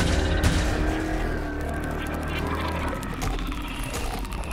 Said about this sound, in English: Like little revving engines.